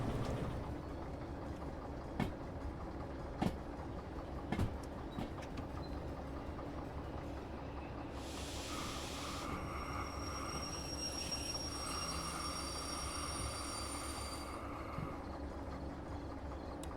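Diesel locomotive in Derail Valley running with a slug attached, a low steady engine rumble with occasional sharp clanks and a high squealing whine in the middle, fairly quiet throughout.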